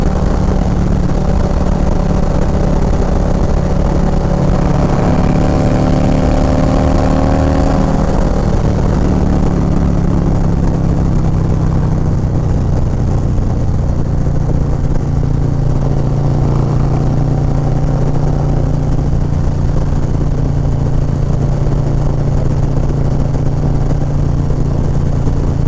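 A Harley-Davidson Low Rider ST motorcycle with a 131 engine pulling hard at high RPM, a loud sustained engine drone with rising and falling pitch, heavy wind rush throughout, no voices.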